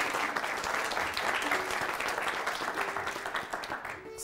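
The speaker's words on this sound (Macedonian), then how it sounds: "Еден аплауз за Флорина." Studio audience giving steady, dense applause for a contestant on a television show, continuous and even throughout.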